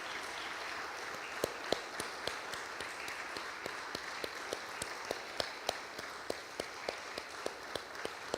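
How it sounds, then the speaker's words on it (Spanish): A congregation applauds during a Spanish-language church worship service, steady faint clapping with distinct sharp claps recurring through a noisy, distant-sounding room. "Dale un aplauso."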